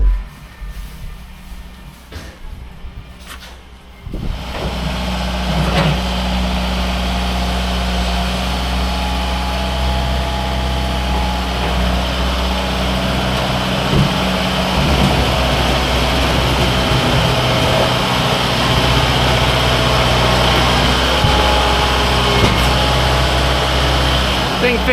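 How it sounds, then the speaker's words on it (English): A new loader tractor runs on a farm, its engine droning loudly and steadily at close range after a quieter start, with a constant low rumble and hum. "breaking the new loader tractor in,"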